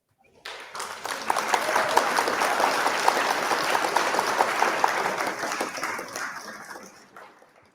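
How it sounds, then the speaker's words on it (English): Sustained audience applause at an awards ceremony honoring the jury, a dense crowd of clapping that swells quickly, holds steady for several seconds and then fades out. "A huge round of applause to them too."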